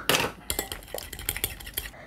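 Crab cake mixture being stirred in a bowl produces a quick run of clinks and scrapes of a utensil against the dish, close and fairly quiet, with no talking.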